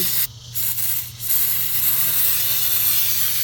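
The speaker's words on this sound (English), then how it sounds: "I'm going to get some brake clean, just kind of spray this off." A continuous aerosol spray of brake cleaner onto a Volvo XC60 T5 engine hisses nearly throughout, briefly interrupted twice early on, over a low steady hum.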